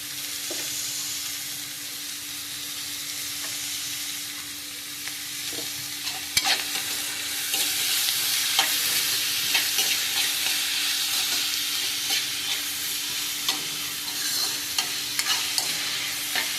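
Sambar ingredients, including mung beans, frying in a pan with steady, close sizzling and hissing, broken by occasional scrapes and clicks of stirring; continuous and fairly loud, with no talk.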